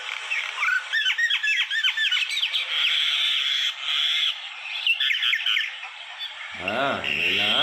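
A pet myna bird squawks and chatters in rapid bursts of harsh, raspy calls, close and loud, with a person's voice briefly heard near the end.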